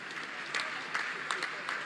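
Applause from an audience at a Lucknow ceremony honouring Olympic players, a broad steady wash of clapping with a few louder bursts, under a speaker's voice talking over it.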